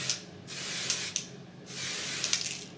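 Wig spray misted onto a lace closure in three close, soft hissing bursts of varying length, separated by brief pauses in a quiet room.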